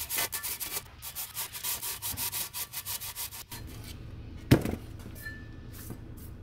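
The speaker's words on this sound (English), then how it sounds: "So I got 220 grit on a really flat piece of metal." An engine valve from a Honda VFR V4 motor is rubbed back and forth on 220 grit sandpaper laid over a flat metal plate, giving a close, rhythmic scratchy rasp for several seconds before a clunk and quieter handling.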